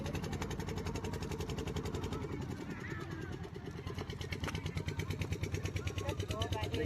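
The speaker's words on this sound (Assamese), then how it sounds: "এইফালে নাও চলি আছে" A boat engine runs steadily close by, a continuous rumbling drone with a fast pulsing beat that holds for the whole stretch while people talk over it.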